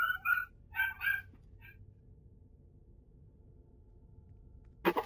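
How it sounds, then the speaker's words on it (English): A dog whimpers and yips excitedly in a few quick high-pitched bursts early on, then goes quiet, followed by one sharp bark near the end against a faint background hum. "My dog is going crazy right now."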